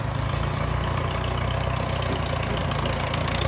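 A tractor engine idling steadily in a garden, a continuous low rumbling chug with an even, knocking pulse, moderately loud and unbroken throughout.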